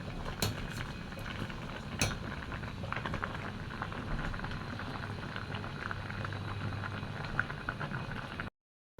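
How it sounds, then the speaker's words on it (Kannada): Tomato and ivy gourd bubbling in a pot of boiling water, a dense steady burble with occasional louder pops, close and continuous before cutting off briefly near the end. "ಇಲ್ಲಿ ಇವಾಗ ಕುದಿತಾ ಉಂಟು ನೋಡಿ ಟೊಮೆಟೊ ಮತ್ತು"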